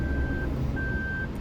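A car's reversing beeper sounds two long steady tones with a short gap while it backs into a parking spot, over low engine and road rumble.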